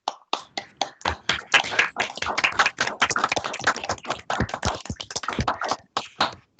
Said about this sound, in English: can you maybe a round of applause for Simon?